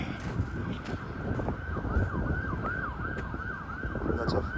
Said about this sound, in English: That's a fire truck, ambulance, or cop.